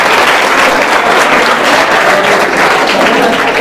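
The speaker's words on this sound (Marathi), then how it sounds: "जोरदार टाळ्या होऊन द्या" An audience at a study-hall quiz event breaks into strong, sustained applause for a correct answer, loud and dense throughout with no talk over it.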